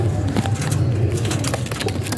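Pigeons in a pigeon loft give a steady low cooing close by, with light rustles and scuffs over a constant background hum.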